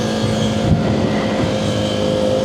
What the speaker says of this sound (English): engine braking just feels good